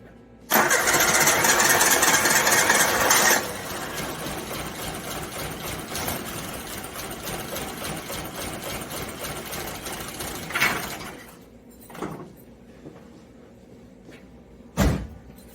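A Suzuki Samurai engine cranking loudly with a rapid starter whir, then running roughly at idle before sputtering out, followed by a few short bursts of further cranking.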